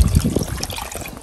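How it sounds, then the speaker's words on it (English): Water poured into a cooking pot to cover cocoyam for pottage, a short, close splashing and trickling pour with no voices. "Mama is going to add water. You want to bury this with water"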